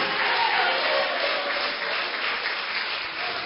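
A church congregation applauds for Christ during a sermon, a broad sustained wave of clapping that stays strong and fills the space, easing slightly toward the end, with no speech on top.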